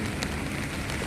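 Faint, steady patter of rain falling on surfaces, a soft continuous hiss with occasional drip-like ticks.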